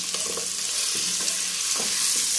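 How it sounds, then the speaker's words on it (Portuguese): Bell pepper sautéing in a pan for a rustic okra and sausage dish, a continuous close sizzle with a few soft stirring scrapes and taps, no talking. "E vou deixar aqui refogar um pouco."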